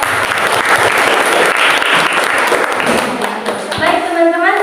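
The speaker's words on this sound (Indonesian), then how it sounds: "Tepuk tangan untuk kelompok." A classroom of students applauds a student group after a presentation, dense loud clapping filling most of the moment before it fades and a voice begins speaking.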